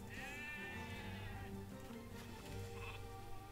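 Sheep bleating in the strategy game Age of Empires 2 Definitive Edition, one wavering bleat near the start and a shorter one later, set over steady game music.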